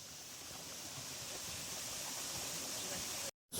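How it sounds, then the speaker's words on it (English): A waterfall in the woods, a loud close steady rush of falling water that fills the whole sound, cutting out briefly to silence just before the end. "but I'm back by the waterfall."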